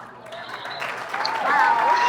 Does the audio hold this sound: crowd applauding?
yes